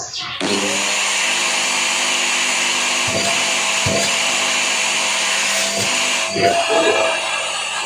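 A vacuum cleaner whirs steadily with a high motor whine, interrupted by a few bumps and clicks.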